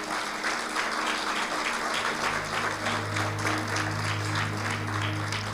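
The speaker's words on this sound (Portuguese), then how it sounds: "quero um aplauso bem forte ao Senhor" Loud, steady clapping from a church congregation praising the Lord during a sermon, continuous throughout with a low hum beneath it.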